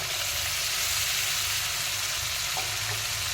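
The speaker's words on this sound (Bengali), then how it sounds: "এখন দিয়ে দিচ্ছি বেটে রাখা টমেটো আর আদা পেস্টটা" Tomato and ginger paste sizzles loudly as it fries in a spice mix for a paneer dish, a steady, close hiss that never lets up, with no voices.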